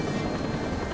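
Rotors of a V-22 Osprey tiltrotor aircraft produce a loud, steady, broad roar that fills the short stretch without a break and with no voices.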